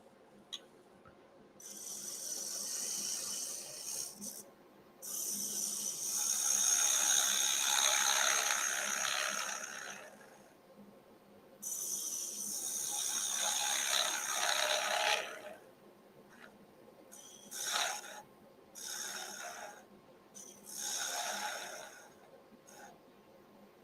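A bowl gouge cuts inside a wooden bowl spinning on a lathe, giving bursts of loud hissing, rasping shavings that alternate with quieter pauses and a faint steady motor hum underneath.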